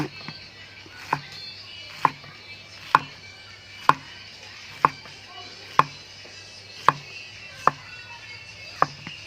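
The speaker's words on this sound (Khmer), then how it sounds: "ហាន់ទៅមកល្មមនឹង" A knife chops pineapple for a shrimp stir fry, giving crisp single knocks on a cutting board at a slow, steady pace of roughly one per second, close and clear against a quiet background.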